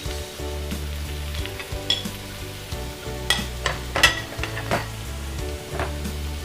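Capsicum and tomato frying with carrot in a pan for masala macaroni pasta, a steady close sizzle with repeated scraping stirs and light clinks of a spoon against the pan.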